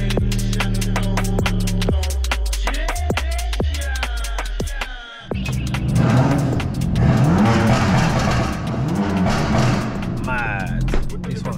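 A 580bhp BMW M3 accelerating on a night drive, the engine note rising through the gears with a loud, raspy roar heard from inside the car, a brief drop between revs, and people talking over it.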